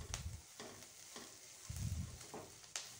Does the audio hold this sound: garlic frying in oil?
yes